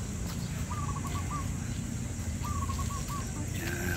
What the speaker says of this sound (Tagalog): Uy, may ibon.